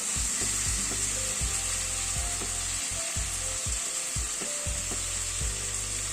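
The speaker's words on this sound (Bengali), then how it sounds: "চিকেনটা মশলার সাথে এবার ভালো করে কষিয়ে নেব" Chicken pieces fry with spices in a pan, a constant loud sizzle with regular low scraping strokes of a spatula stirring, close and alone.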